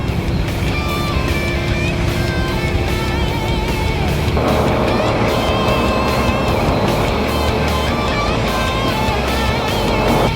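A racing powerboat's engine roars continuously and loudly, its pitch shifting upward as it accelerates with the trim raised, with rushing wind and water noise throughout.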